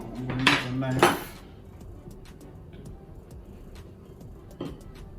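A knife clinks twice against a dish while cutting a Jamaican beef patty, two close, bright metallic strikes early on, then a quiet room with one fainter tap near the end.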